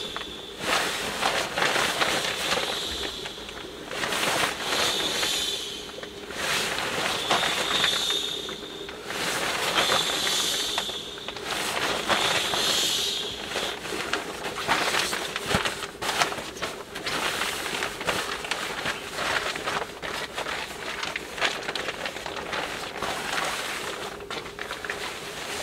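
Eggs boil in a pot on a wood stove at a tent camp in the woods, giving a continuous steady hiss and bubbling that runs unbroken throughout at moderate volume.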